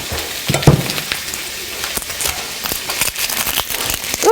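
Onion frying in a hot pan gives a close sizzle broken by sharp clicks and scrapes of stirring, the crackle rising and falling with no voices.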